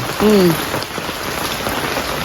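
Steady rain hisses across the whole clip, with a brief tonal whine near the start rising over the constant patter.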